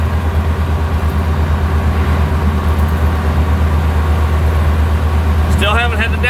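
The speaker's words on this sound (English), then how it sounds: "See how the Samurai recovers going up this hill." Suzuki Samurai fitted with a swapped 1.6 Geo Tracker 8-valve engine pulling up a hill, a steady low engine drone heard from inside the cabin, loud and continuous, a brief higher whine near the end.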